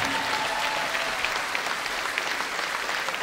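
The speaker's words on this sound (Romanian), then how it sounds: "Aplaudați-i pe toți că merită," Dense applause from a concert audience honoring a folk orchestra, steady and even across the whole stretch with a faint lingering tone early on.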